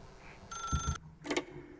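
An old-fashioned telephone rings in The Stanley Parable, two short bursts of a bright trilling bell close to the listener, with a small gap between them.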